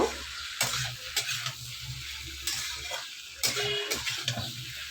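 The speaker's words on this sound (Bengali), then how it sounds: "এবার লবণ আর এই হলুদটা দিয়ে সবজিটাকে বেশ ভালো করে খানিকক্ষণ নাড়িয়ে চাড়িয়ে নেব" Mixed vegetables with salt and turmeric stirred in a frying pan over a gas flame, a steady sizzle broken by repeated scraping strokes of the spatula, close and fairly loud.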